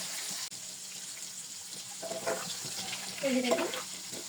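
Marinated chicken, seasoned with sugar and chili flakes, fries in shallow oil with a faint, steady sizzle, and a few soft stirring and splashing sounds rise near the end.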